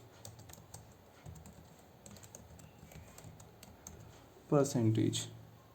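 Typing on a computer keyboard during a spreadsheet charting task: soft, quick key clicks scattered through the background while a voice talks over them and grows louder near the end.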